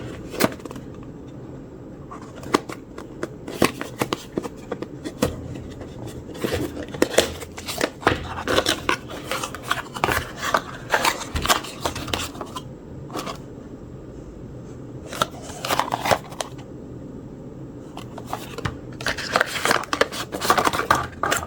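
Packaging for an Emeet Smartcam C950 webcam is opened with close, sharp rustles, crinkles and scratchy cardboard and plastic handling noises in irregular bursts, with quieter pauses between them.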